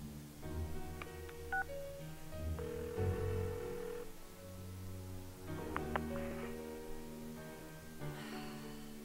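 Short electronic beeps of a phone number being keyed in during a call in the video game Persona 4, tapped in quick bursts over steady background game music.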